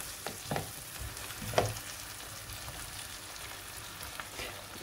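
Cut cherry tomatoes frying in a pan with butter and oil, a continuous soft sizzle with a few stirring knocks and clicks, close up and without voices.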